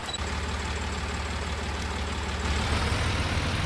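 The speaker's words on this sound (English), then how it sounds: "let me quickly just jump on the tractor" Tractor engine in Farming Simulator 19, a steady low idling rumble with a faint knocking pulse, close and unbroken, swelling slightly near the end.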